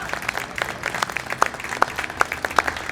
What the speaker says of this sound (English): let's have another round of applause for John McEntee.